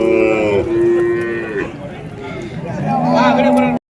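Cattle at a large open cow market in Tiruvannamalai, two long close moos, one around the first second and a rising one near the end, with a busy crowd murmur underneath.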